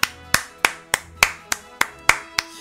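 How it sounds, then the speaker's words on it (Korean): Eight sharp claps in a steady, evenly spaced rhythm, close and fairly loud, with no voices. "박수 한 번씩 부탁드립니다."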